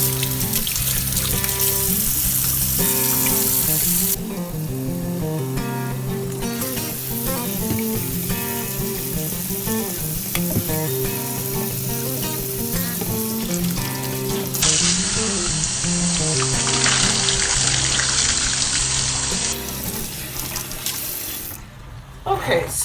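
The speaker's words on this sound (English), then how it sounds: "I'm going to wash my hands." Running tap water pours steadily into a kitchen sink as hands are washed, a continuous splashing rush with shifting tone while a batch of homemade apple cider vinegar is being prepared.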